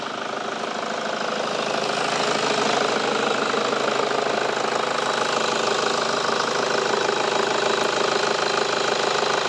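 A vehicle engine idles steadily at close range, a dense continuous rumble with a faint knocking texture that holds level throughout without revving or speech.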